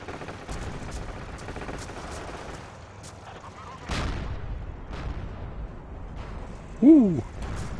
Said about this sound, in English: Yeah, the mortar is active now.